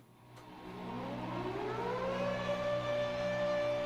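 The opening of a song plays from a recording, a rising, wailing siren-like tone that swells over a sustained droning background and holds steady and loud to the end.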